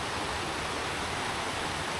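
A river swollen by rain rushes near Waghbil waterfall, making a dense, constant roar of flowing water that fills the scene evenly, close and loud, with no speech.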